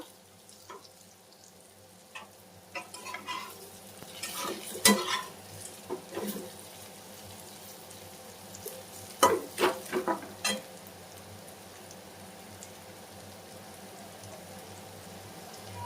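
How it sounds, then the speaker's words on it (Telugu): Bitter gourd (kakarakaya) frying uncovered in a pan, a low steady sizzle with scattered spatula scrapes and taps that cluster in short bursts, near and moderately quiet, with no speech. "నేను ఇలానే ఫ్రై చేసుకున్నాను."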